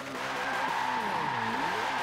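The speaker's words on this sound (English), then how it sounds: "Ooh, that's actually pretty good at drifting, or like doing skids, should I say." A twin-turbo V8 Dodge Super Bee spins donuts in Forza 7, its tires squealing in continuous wavering howls over a sustained engine drone, close and loud with no break.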